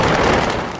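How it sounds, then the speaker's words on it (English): Loud, dense roar of a blast at the Beirut port, where a warehouse holding fireworks had caught fire, a sustained crackling rumble that fades slightly over its short length. "Videos from the scene suggest there was one smaller explosion."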